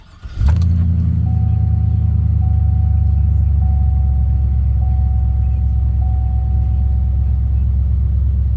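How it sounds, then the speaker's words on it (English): GM GMT800 truck with a new exhaust and 198,000 miles, starting up and settling into a loud, deep, steady idle rumble that continues unbroken, close by with no talk. "it sounds pretty good with the new exhaust"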